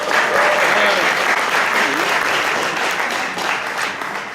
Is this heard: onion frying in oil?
no